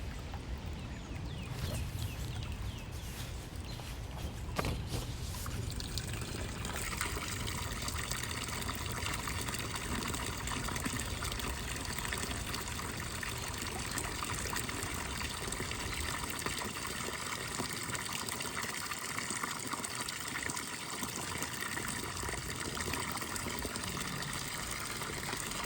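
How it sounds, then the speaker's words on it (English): A backyard garden fountain pump beside a mossy rock runs continuously, sending a steady, even wash of flowing and splashing water throughout with no voices. "I plug in the pump and wait for it to fill with water"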